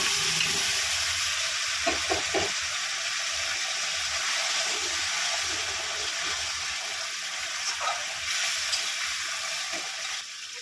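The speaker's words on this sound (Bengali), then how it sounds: "এবার আমি মাংসটা দিয়ে একটু কষিয়ে নেব।" Mutton pieces frying in cooked-down spice paste with oil, a steady close sizzle running throughout with a few soft stirring knocks, no voices.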